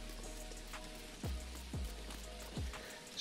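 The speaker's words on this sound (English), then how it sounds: "It's quite good rain sounds in this." Steady rain pours in the farming video game Dinkum, a constant hiss of drops on the ground with a few low whooshing sweeps, heard alone with no talk.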